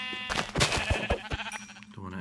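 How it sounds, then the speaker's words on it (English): Sheep in the video game Minecraft bleat in a few short, wavering calls over a steady game backdrop, with a person talking at the same time. "There's a couple of sheep. There's a few sheep."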